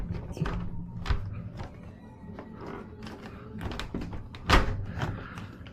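A door lock being shimmed open, heard as scattered close tapping, clicking and thudding knocks of metal against the door and latch, with a few sharper bumps.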